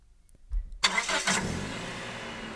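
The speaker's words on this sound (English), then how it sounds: "It is a car starting." A car engine cranks briefly, then catches and starts, settling into a steady idle nearby.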